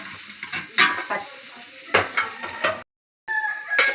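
Shawarma filling stirred and cooked in a pan, sizzling with several loud scraping strokes of a spoon, a brief dead gap, then more stirring up close.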